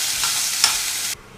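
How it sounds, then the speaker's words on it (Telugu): Poha with tempering and boiled corn kernels is stirred in a pan, making a close, steady hissing sizzle with a couple of soft scrapes before it cuts off abruptly, with no talk. "ఒకసారి అంతా కలిపేసుకుందాం తాలింపు."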